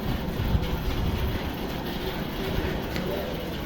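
Train noise at Barhawra station on the way to Shivgadi Dham, a steady low rumble of rail carriage and engine sound filling the short stretch without clear breaks.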